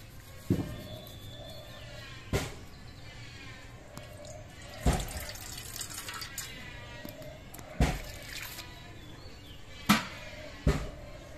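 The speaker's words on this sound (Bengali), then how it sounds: "এই চালটা আমি ধুয়ে নিচ্ছি।" Gobindobhog rice being washed by hand in water, with irregular splashes and sloshing pours recurring every second or two against a low, steady background.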